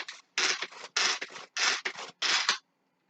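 Tupperware hand-pull chopper dicing food: a series of quick, rasping bursts in an uneven rhythm, close and clear, with short pauses between pulls.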